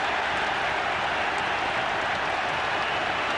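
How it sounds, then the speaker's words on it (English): A packed football ground roars and applauds at the close of a 1994/95 West Ham United match in which Blackburn are beaten, a dense, steady wash of cheering and clapping that stays loud and unbroken throughout, with no distinct voices standing out. "All round the ground, there's cheering anyway"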